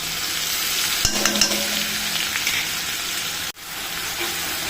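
Thecha with hing and turmeric being stirred and fried in a pan, with a steady sizzle and a few scraping stirs in the first couple of seconds, a brief pause, then sizzling resumes.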